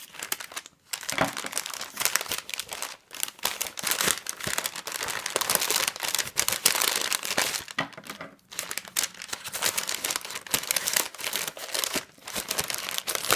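Parcel being unwrapped, its many layers of packing tape and wrapping crinkling and tearing in near, continuous bursts for the whole stretch, with brief pauses and no talking.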